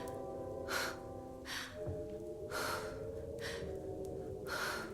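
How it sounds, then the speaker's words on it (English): A woman does heavy rhythmic Lamaze breathing, with four or five loud, breathy inhales and exhales at a steady pace, close to the listener, over a faint low hum and tonal background indoors by a fire on a cold night. "you're breathing awfully hard"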